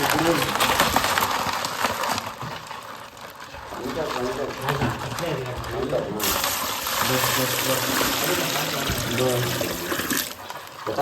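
Water in a jungle stream flows and splashes close by during crab catching, a steady rushing gurgle. People talk loudly over it almost the whole time.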